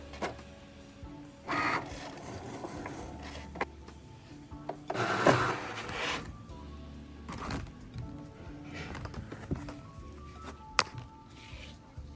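A brand new Cricut cutting machine slices small felt eyes, giving a quiet mechanical whirring with short bursts of motor and blade movement over steady low hum, plus a sharp tap near the end.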